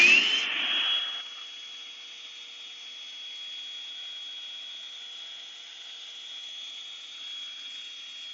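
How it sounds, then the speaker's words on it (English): A Bissell Pet Hair Eraser handheld vacuum whirs up with a rising whine, then holds a steady high-pitched hum close by as it sucks dust from around a cabinet. "let's demo this real quick and vacuum some of these some of the dust that's around this cabinet"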